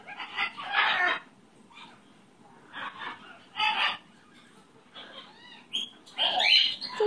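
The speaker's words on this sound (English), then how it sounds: "Such a beautiful bird." A pet chicken clucks and crows close by in several loud bursts separated by short pauses, with softer chatter between the calls.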